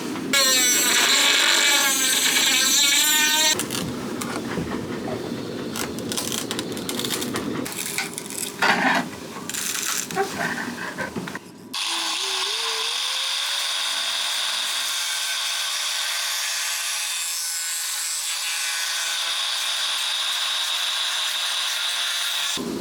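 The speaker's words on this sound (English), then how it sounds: "time to start chipping away with the various tools." Hand tools chip and scrape at fiberglass bulkhead tabbing on an old catamaran, with loud irregular scraping and knocking for several seconds before a quieter, steadier hum.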